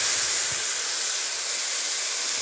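A ground paste of onion, ginger, garlic and tomato sizzles in a small amount of hot oil, giving a loud, even, continuous hiss with no talking.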